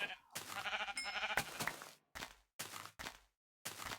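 Blocky Minecraft sheep bleat several times in short, wavering bursts separated by brief silences, fairly close and clear, with a voice talking between the calls.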